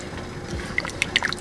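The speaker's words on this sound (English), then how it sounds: "she's gonna try to squeeze it out here" A marble-sized lump of tamarind is squished by hand in water, giving a brief run of soft wet squelches and little drips close up.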